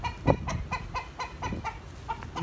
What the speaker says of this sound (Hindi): ये कितनी प्यारी मुर्गी है